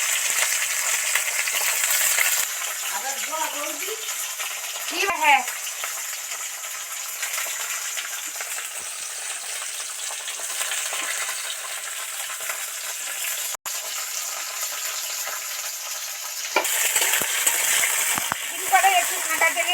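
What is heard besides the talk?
bean and kohlrabi frying in hot oil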